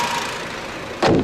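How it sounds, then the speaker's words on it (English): The 5-cylinder engine of a 2010 Volkswagen Golf 4-door runs with a steady, smooth mechanical rumble, then jumps abruptly louder near the end of the brief snippet. No one speaks. "it's a really smooth, torquey engine that makes a very interesting sound"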